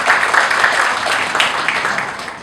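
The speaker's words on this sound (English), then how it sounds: "Can we give her a round of applause?" A ceremony audience at a waste diversion celebration applauds a guest, a steady wash of many hands clapping, fairly loud and even throughout.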